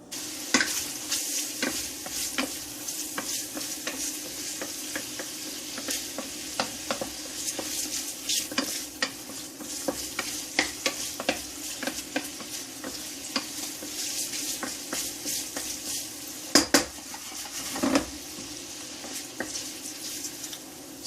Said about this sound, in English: So that bacon has been sweating here for a good 2 minutes.